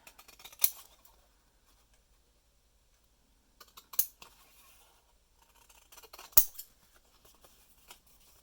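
Scissors snipping out a piece of paper mail art, a few short crisp cutting bursts separated by quiet pauses, close and fairly faint with no talking.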